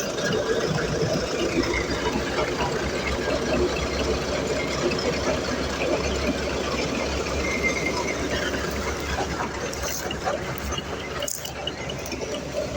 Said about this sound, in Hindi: अब देखते हैं ट्रैक्टर सही